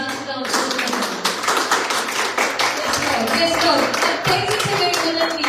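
Loud audience clapping at a church gathering, sharp claps coming fast and a little uneven throughout, with crowd noise and voices mixed in.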